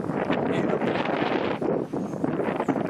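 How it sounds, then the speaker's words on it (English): Breezy wind gusting across an exposed hilltop, a steady, loud, close rush buffeting the microphone with brief lulls and renewed gusts throughout. "It's always breezy up here. It's breezy like this."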